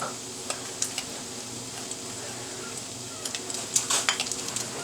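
Brown sugar and white flour being stirred together in a bowl, a scattered run of soft scraping and light clinks, loudest near the end, close by with no talk.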